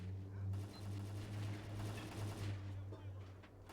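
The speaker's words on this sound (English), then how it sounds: "hear people fighting up here." Distant gunfire from a fight in the video game STALKER: Call of Pripyat crackles faintly under a steady low hum, with scattered muffled shots.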